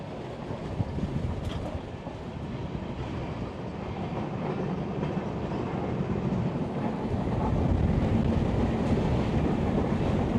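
A passenger train in India rumbles steadily along the rails with a dense, roaring rush of wind and track noise, continuous and loud throughout.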